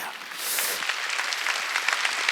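Applause from a church congregation during a Sunday worship sermon, a steady, moderately loud wash of many hands clapping that swells slightly after the first half second and holds evenly.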